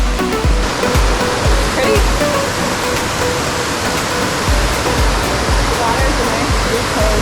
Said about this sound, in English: if you wanted to come down and play in the falls.